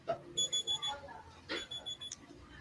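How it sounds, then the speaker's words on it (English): An alarm beeps in quick rhythmic bursts, two runs of sharp electronic tones separated by a short pause, fairly close and clear over a quiet room. "It's just an alarm."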